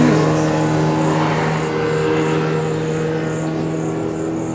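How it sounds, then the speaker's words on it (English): A fast-moving car gives a loud, steady engine and road drone that holds evenly from start to finish, with no talking. "Good thing he's driving fast."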